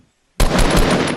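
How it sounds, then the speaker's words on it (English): Regular assault rifle in the Fortnite battle royale game fired in a short burst, a sudden loud rapid string of shots after near silence, sustained for about a second. "shoot the regular assault rifle in burst rounds"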